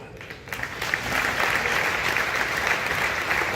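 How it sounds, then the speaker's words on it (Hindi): A hall audience at a Hindi comic poetry recital claps steadily and loudly, a dense continuous wash of applause that swells within the first second and holds. "नहीं देखा हो तो पीछे तक ईमानदारी से ताली बजा के बताना"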